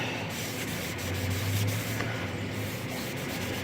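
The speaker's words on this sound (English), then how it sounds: "I'm going to wipe off a little bit of the excess before I clean up my mess." A cloth wipes excess natural oil off an old tool, making a steady close rubbing hiss with a faint low hum beneath and no speech.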